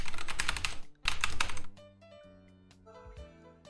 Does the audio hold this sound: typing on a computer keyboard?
yes